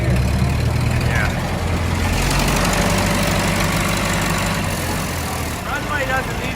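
A massive old tractor engine runs nearby at an airport, a loud low chugging idle with steady knocking throb, while people talk over it.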